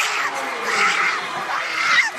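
A basketball crowd in an Arkansas rivalry game screams after a buzzer-beater three-pointer, a loud, continuous roar of many voices swelling and falling across the whole stretch.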